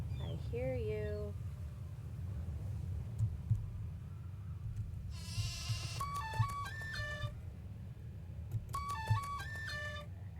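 Sheep bleating in the video game Haunting of Castle Malloy, a few short wavering bleats near the start over a steady low background, followed by bright chiming game tones.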